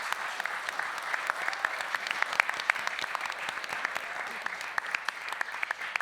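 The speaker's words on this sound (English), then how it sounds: "So let's give them a round of applause." Audience applause for an all-women science panel, a steady dense patter of many hands clapping throughout, moderately loud and continuous with no talk over it.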